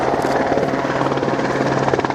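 A Mark IV Sea King helicopter hovers close by at about 150 feet at an air day, its heavy rotor chop thudding steadily over a loud turbine whine.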